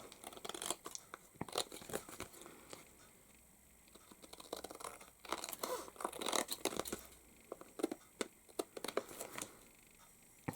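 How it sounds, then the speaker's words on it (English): Scissors snip away the excess paper around an adhesive-backed craft sheet, with crinkling paper handling between the irregular, close cuts. "flip it over and trim off the excess"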